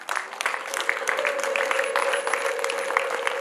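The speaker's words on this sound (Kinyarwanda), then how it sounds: "Naomi, izo ni impundu zo ku munsi wawe." Wedding guests at a Rwandan bride's celebration raise a sustained, high trilling ululation of impundu together, a steady chorus carried over a noisy crowd background throughout.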